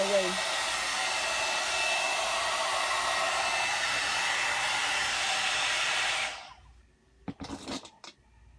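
A hot air brush drying and straightening hair blows with a steady, loud, close whoosh for about six seconds, then cuts off, leaving a few faint handling clicks and rustles.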